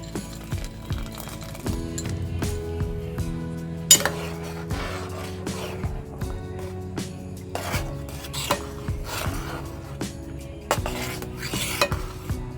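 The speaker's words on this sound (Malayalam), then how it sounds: "ഇനി നമ്മൾ നേരത്തെ വറുത്ത് വെച്ചിരിക്കുന്ന ബദാമും കിസ്മിസും ഇട്ട് കൊടുക്കാം" Roasted almonds and raisins go into a pot of carrot and sago payasam, with close, repeated metal spoon clinks and stirring knocks against the vessel over a low background hum and no speech.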